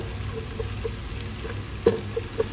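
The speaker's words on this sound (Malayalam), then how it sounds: "അപ്പോൾ സവാള നന്നായിട്ട് വറുത്തിട്ടുണ്ട്" Sliced onions frying in hot oil for chicken biryani give a steady soft sizzle, broken by a few brief louder pops and crackles as the pan is stirred.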